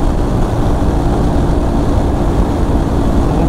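Big trail motorcycle engine droning loudly and steadily while riding alone, a continuous low rumble mixed with wind rush heard close to the rider, with no talking over it.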